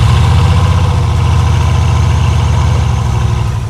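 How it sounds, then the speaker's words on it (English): Loud, deep Bugatti W16 hypercar engine idle with a steady low rumble and rapid pulsing, close by, easing slightly toward the end; no talking. "Come around the back, you can see the iconic Bugatti W16 engine."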